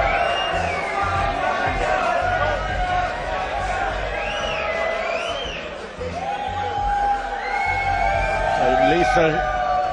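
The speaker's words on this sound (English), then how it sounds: "Shipley announces round 3 to huge applause from the crowd." A large crowd at a world chessboxing middleweight championship bout cheers and applauds loudly and steadily, with whoops and shouts rising over the roar throughout.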